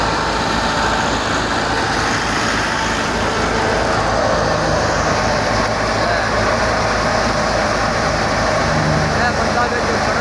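A wheat threshing machine run by a tractor grinds and roars loudly and continuously close by, a dense mechanical drone with voices heard over it.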